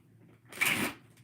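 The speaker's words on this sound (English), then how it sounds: "Let's do a couple more shuffles here" Tarot cards being shuffled once in a brief close riffle lasting about half a second, with quiet room tone before and after.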